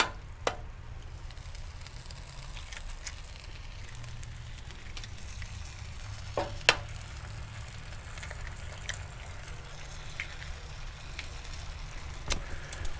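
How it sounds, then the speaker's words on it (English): Eggs fry in butter in a pan for a breakfast bagel sandwich, giving a steady, even sizzle and hiss with a few faint pops and clicks, and no one talking. "Now, let's crack a couple of eggs in here."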